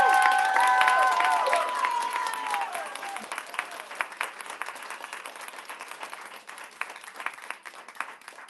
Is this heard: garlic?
no